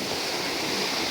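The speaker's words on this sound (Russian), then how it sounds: "А там такие волны, так красиво." Sea waves washing onto the sandy beach at Byala, Bulgaria, a soft continuous surf hiss, steady and fairly quiet with no talk.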